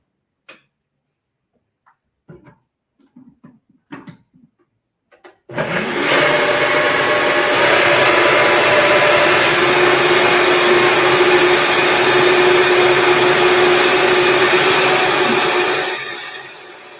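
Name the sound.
blender blending a mix with nutritional yeast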